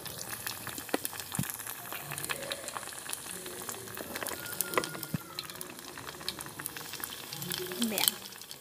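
Corn and flour tortillas frying in hot oil, a steady low sizzle and bubbling with scattered pops and crackles throughout, occasional clatter of a utensil, and a voice speaking briefly over the cooking.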